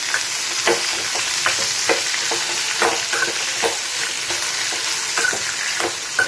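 Dried red chillies, onion and tomato sizzle steadily in a hot oiled pan, with regular scraping stirs of a spatula punctuating the close, continuous frying hiss.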